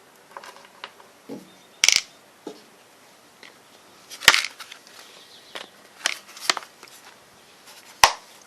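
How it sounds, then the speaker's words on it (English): Metal bolts from a Briggs & Stratton lawn engine are dropped into a container, giving a few sharp, close clinks and rattles spaced apart with quiet handling noises between them. "I'm going to put the bolts that came off of it in there"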